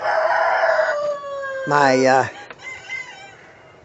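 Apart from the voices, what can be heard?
chickens clucking and rooster crowing in coop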